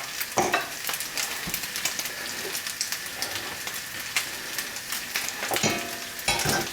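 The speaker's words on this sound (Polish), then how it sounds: "zobaczcie ktoś tam teraz smaży" Bacon crackles and sizzles in a hot frying pan, a steady dense hiss of spitting fat with scattered pops and an occasional scrape of stirring, close and fairly loud, with no talking.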